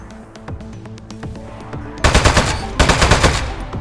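Rapid automatic gunfire from the desk-mounted gun in the video game Aperture Desk Job, beginning as light scattered clicks and then bursting into loud, sustained volleys over the last half, with no talking.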